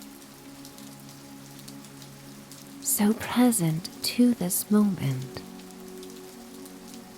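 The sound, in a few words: rain falling steadily on wet paving stones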